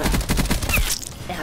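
Rapid automatic gunfire in the video game Black Ops 4, a fast burst of loud close shots in quick rhythm that stops partway, followed by fainter game sounds.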